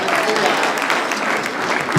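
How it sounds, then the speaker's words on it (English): A standing audience at a city candidates' meet applauds, loud dense clapping sustained throughout with voices mixed into the crowd noise. "I'd like y'all to stand up and applaud again."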